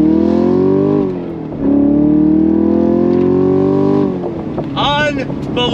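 A 2023 Chevrolet Camaro SS convertible pulls away from a light, its V8 engine rising in pitch through the gears with a brief dip at the shift, loud and close, before easing off near the end.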